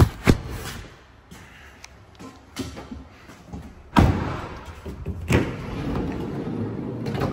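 The double sliding side door of a Renault Trafic dCi 150 Energy Intens nine-seat van rolls and thuds shut, with several sharp latch clunks and a heavy slam midway, close by and without speech.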